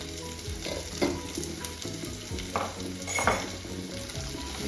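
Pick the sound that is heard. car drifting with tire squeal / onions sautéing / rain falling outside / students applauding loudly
onions sautéing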